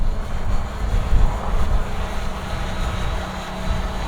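A Hubsan Zino drone flying in wind gives a steady broadband whir mixed with low, gusty wind buffeting on the microphone, continuous and fairly loud throughout.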